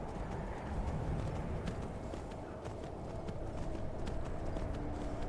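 A horse trotting in Skyrim, quick regular clip-clop hoofbeats over a dense, steady ambient bed, continuous and moderately close with no speech.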